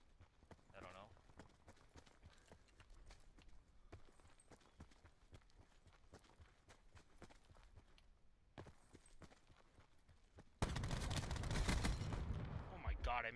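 Gunfire in an online multiplayer shooter game: rapid, sharp, faint shots scattered throughout, a louder dense burst near the end, with players talking over it.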